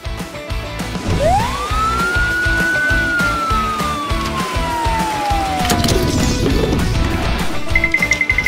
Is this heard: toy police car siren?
yes